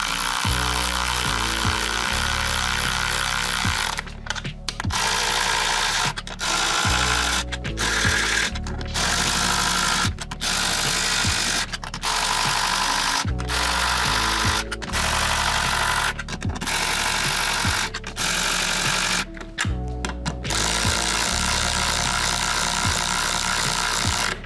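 A Ryobi 4V 3/8-inch cordless ratchet running nuts down onto bolts buzzes loudly and steadily in repeated bursts, each broken by short pauses between nuts, close up with no talking.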